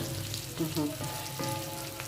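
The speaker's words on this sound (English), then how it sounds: "so now we have fried our onion and garlics" Onion and garlic frying in a pan with a low, steady sizzle, faint and close, broken by brief squeaky scraping sounds and a background hum, with no talk.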